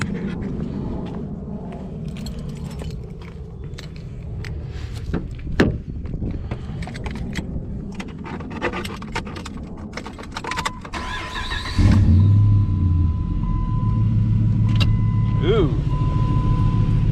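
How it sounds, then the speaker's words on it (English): A Hemi Ram 1500 pickup with a Jegs exhaust and Jones Full Boar muffler cranks and roars to life partway through, settling into a deep, loud rumble after a stretch of handling noises and brief voices. "So let's crank it up."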